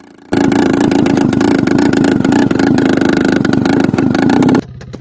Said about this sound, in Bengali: আজকেও সেই মোটর সাইকেলটা নিয়ে বেরিয়ে গেছি